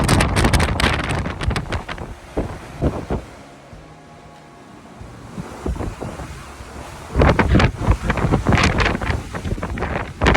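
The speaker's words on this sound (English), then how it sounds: "Pretty windy up here today." Strong wind on a motorcycle ride near Formentor, Mallorca, buffets the microphone in loud gusts, easing briefly in the middle before roaring back, with no voices.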